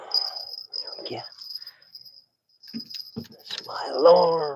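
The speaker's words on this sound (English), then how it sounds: "That's my alarm." An alarm rings during a Florida fishing outing as a steady, thin, high-pitched tone that holds on with short gaps, heard under a man's speech that runs through most of the clip.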